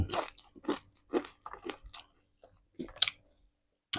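Crisp, crunchy chewing of Isan-style fried dried pork and fried frog, close to the mic, in several distinct bursts with short pauses between bites.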